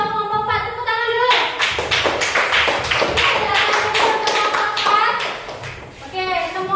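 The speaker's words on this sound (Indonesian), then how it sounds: "Tepuk tangan dulu." A group of primary-school students in a classroom break into a burst of lively, uneven hand clapping that lasts several seconds. Children's voices are heard just before and after the applause.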